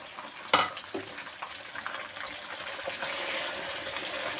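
Chicken mince (keema) drops into a pan of lightly browned ingredients with a sudden loud sizzle, then settles into a steady crackling fry with a few soft stirring clatters.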